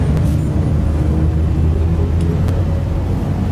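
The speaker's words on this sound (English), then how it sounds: "So, gonna turn on the engines. Engines on." Engines of a Crusader Hercules C2 starship spooling up in Star Citizen, a deep, steady rumbling whir with a low hum and faint higher whine, loud and close.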